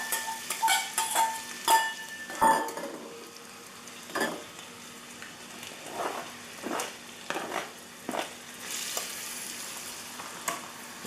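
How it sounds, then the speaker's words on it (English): Onions and celery sautéing in hot shortening for seafood gumbo, a steady sizzle broken by repeated scraping stirs and light clinks of a utensil against the pan. "Now that the shortening is heated up, we'll go ahead and saute our onions and celery."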